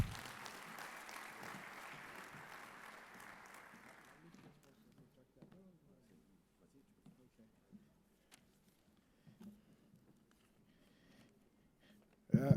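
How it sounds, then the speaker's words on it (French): Audience applause at the closing ceremony of an investment forum in Senegal, a steady crowd clapping for about four seconds that fades into quiet room noise with faint murmurs. "Sous vos applaudissements, mesdames et messieurs."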